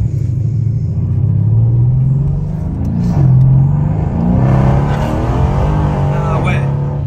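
A car engine revs and accelerates from inside the cabin, a loud low rumble that climbs and drops in pitch through several gear changes, with people talking over it.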